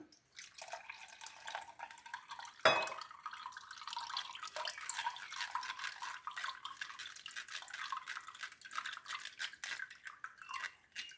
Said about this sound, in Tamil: அதே கொஞ்சமாக தண்ணி சேர்த்துக்கலாம்